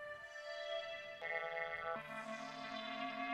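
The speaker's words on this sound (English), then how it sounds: "I've used ring modulators plenty of times" A synth tone run through a Moog Moogerfooger ring modulator, sustained with metallic inharmonic overtones that jump in pitch twice, then settle into a low, buzzy drone.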